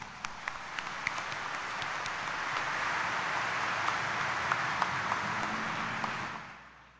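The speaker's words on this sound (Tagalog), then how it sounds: "itaas nga ang kamay at pumalakpak ng mas malakas" A church congregation at a Friday Mass at Quiapo Church claps steadily in a dense, even wash of applause that swells slightly, holds for several seconds, then fades out near the end.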